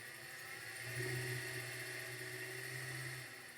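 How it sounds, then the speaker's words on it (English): A used car's engine, low on coolant and due for an oil change, idles steadily with a low hum and a faint whir, close and alone for a few seconds. "let's see how the motor sounds"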